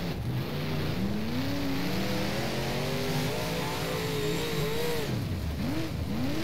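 A late model race car engine in the rFactor racing game at Kokomo Speedway revs and drones loudly and continuously, its pitch rising and falling as the car accelerates and eases off.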